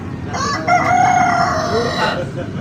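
A rooster crows once, loud and close, in a single drawn-out call of about two seconds over low background noise.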